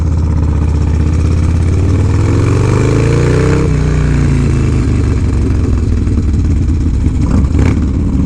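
Harley-Davidson motorcycles, a LiveWire and a Pan America, ridden hard, with a loud, close engine roar that climbs in pitch as it revs up, drops back, then keeps rumbling with some clatter throughout.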